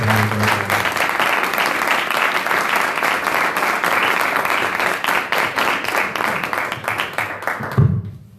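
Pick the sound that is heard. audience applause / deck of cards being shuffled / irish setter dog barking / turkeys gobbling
audience applause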